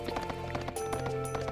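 Horse-like mounts gallop in Suikoden III, a fast clip-clop of hooves in quick, even rhythm over game music with sustained tones.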